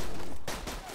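Gunfire in the Borderlands 2 video game sounds as a loud, dense burst of rapid shots that cuts off briefly, then continues a little quieter, with a voice talking over it.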